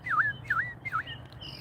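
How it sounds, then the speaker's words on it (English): An American robin sings three clear, repeated whistled phrases at moderate distance outdoors, each a short falling-and-rising note, with faint background ambience and no talking. "That's an American robin"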